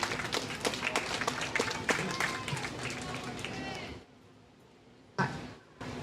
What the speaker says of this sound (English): Please give your home team a round of applause